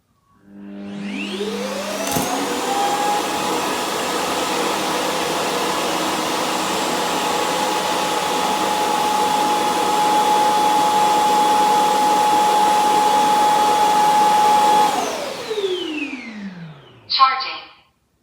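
A Roborock Q10V+ mini base station empties the robot vacuum's dustbin with a loud, steady suction roar that spins up quickly, holds for about twelve seconds and then winds down, followed by a few short clicks.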